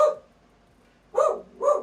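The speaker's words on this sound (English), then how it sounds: "she's just barking to bark" A female dog barks twice in quick succession, close and fairly loud, after a short faint sound and a quiet pause.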